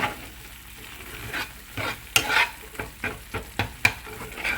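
Spiced masala for palak paneer sizzles steadily in a pan as a spoon stirs and scrapes it, with a string of sharp clinks and scrapes against the quiet frying hiss.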